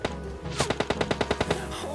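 Rapid automatic gunfire in the mobile shooter PUBG Lite, a tight burst of about a dozen evenly spaced sharp shots lasting roughly a second, loud and close over a low game ambience.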